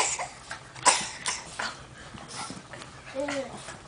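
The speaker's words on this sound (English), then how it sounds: "Do you like a good dog fight, Nikki?" Dogs fighting at close range, with scattered growls, yips and whimpers over a steady background hiss and faint talk from people nearby.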